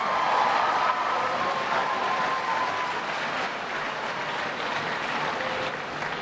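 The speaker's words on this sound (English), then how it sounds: "Let's give him another round of applause." An audience at the New York State of the State address in Buffalo claps steadily in sustained applause, a dense patter of many hands that slowly eases off.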